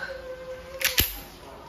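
A WE airsoft M92 black full-metal pistol firing steel balls, two sharp close shots about a fifth of a second apart, loud cracks over a quiet room.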